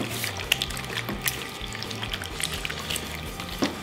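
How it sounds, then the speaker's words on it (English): Wet trickling, squelching sounds of raw chicken being mixed by hand with water, garlic powder, salt and white pepper, close and steady with small splashy bursts, no talking. "We're just gonna give this a mix."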